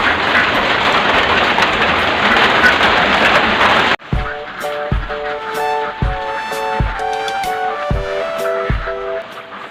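Steady, dense rain falls at a duck farm, hissing loudly for several seconds. It then gives way to lighter patter with regular muted thumps and a faint tonal hum in the background.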